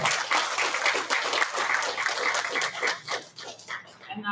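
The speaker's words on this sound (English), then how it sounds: "we need to give a round of applause to NAMI, Montana, for putting this conference on" A mental health conference audience claps for the organisers, a fairly close, dense patter of hands that swells and thins over a few seconds before cutting off abruptly at the end.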